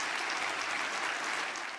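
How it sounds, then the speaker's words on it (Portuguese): Parliament benches in Sweden break into steady applause after a vote, a dense, even wash of clapping from many hands throughout. "O voto foi aplaudido pelas bancadas dos 3 partidos da direita"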